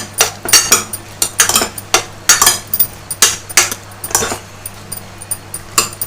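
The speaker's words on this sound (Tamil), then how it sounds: "மஞ்சப்பொடி போட்டுட்டு நல்லா கலந்து விடுங்க" Brinjal pieces tossed with turmeric powder in a metal pan, a spoon scraping and clinking against the pan in quick irregular bursts, fairly loud and close, with no talk.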